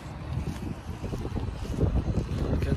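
Low, gusty wind buffeting the microphone outdoors in Australia, a steady rumbling rush with no other sounds standing out.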